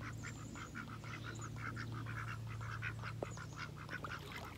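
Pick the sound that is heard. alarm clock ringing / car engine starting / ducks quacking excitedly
ducks quacking excitedly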